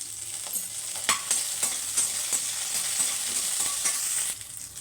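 Curry leaves crackle and sizzle in a pan of gravy base while a spoon stirs, sharp spattering pops over a constant close frying hiss, steady and alone with no talk.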